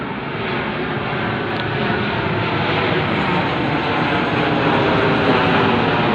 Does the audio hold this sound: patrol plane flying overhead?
yes